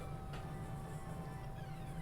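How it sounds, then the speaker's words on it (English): A train rolls past in a baseball video game, a steady low rumble with a continuous rail hum that holds evenly throughout at moderate volume. "There's a train there. The train's there."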